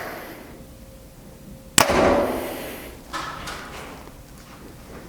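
A compound bow, an Elite Omnia or Hoyt VTM 34, fires once with a sharp loud snap followed by a brief resonant hum that fades, then a few softer clicks.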